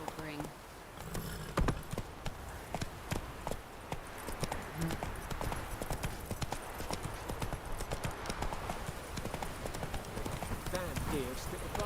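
Roach the horse galloping in The Witcher 3: Wild Hunt, a fast continuous clip-clop of hooves running close and steady throughout, with brief voices and a whinny.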